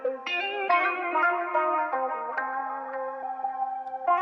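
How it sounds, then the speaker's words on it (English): A guitar riff played over a beat arrangement, heavily processed with echo, chorus and distortion, a steady run of ringing notes with no talking. "so I added this extra guitar riff"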